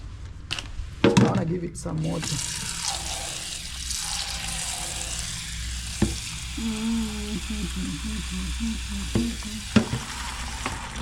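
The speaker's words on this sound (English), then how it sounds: "I want to give it some water." Water poured onto garden plants, including a sweet potato plant, in cold weather: a steady close splashing and trickling that runs throughout, with a person talking over it.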